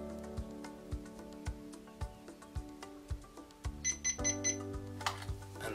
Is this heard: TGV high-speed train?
no